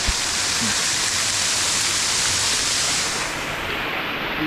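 A hidden waterfall at Zirad crashes continuously, close and loud, a dense unbroken roar of falling water that eases slightly near the end.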